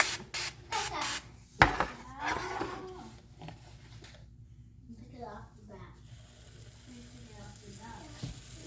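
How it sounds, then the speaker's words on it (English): A short hiss of avocado oil spray from a can onto a pan, followed by sizzling and light clatter, with people talking nearby. "I'm gonna go ahead and spray my pan with a little bit of avocado oil"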